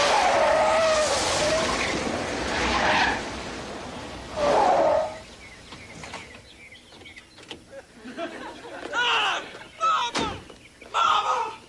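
Car tires squealing and skidding loudly at first, then car noises with bangs like doors slamming, some voices mixed in.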